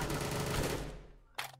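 Gunfire in VRChat, a rapid burst of shots that rolls into a decaying echo, followed by one more sharp shot near the end.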